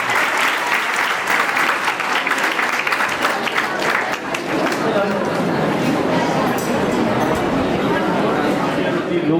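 Sustained audience applause at a Gujarati lok dayro folk gathering, dense clapping throughout with crowd chatter underneath, steady and loud for the full stretch.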